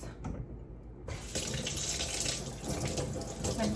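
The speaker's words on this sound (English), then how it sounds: "Rinse my brush." Tap water pours steadily into a sink while a scrub brush is rinsed under it, a loud, close, continuous splashing rush after a short start.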